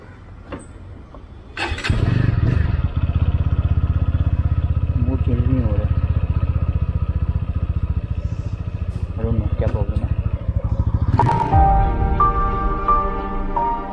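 A TVS Apache RTR 200 4V BS6 motorcycle engine fires up on a test ride and settles into a loud, close, steady idle with brief revs, while people talk over it.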